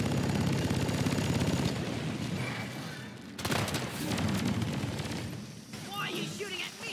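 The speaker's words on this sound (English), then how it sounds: "Why are you shooting at me?" Video game gunfire crackles in a dense, continuous barrage with heavy booms and rolling rumble, fairly loud and sustained, while a voice talks over the din.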